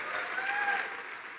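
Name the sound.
audience applause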